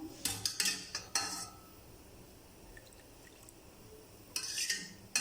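Hot water and premix rasam powder being stirred in a utensil, with scattered clinks of a spoon against the vessel in bursts at the start and end, quieter liquid sounds between, no talking.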